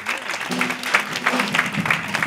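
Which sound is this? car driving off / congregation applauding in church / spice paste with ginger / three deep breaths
congregation applauding in church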